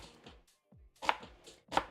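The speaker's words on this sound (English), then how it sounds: "put it close by the onion that you're chopping" Onion chopped on a board with a knife, a handful of sharp, close knocks in an uneven rhythm, two louder strikes near the end.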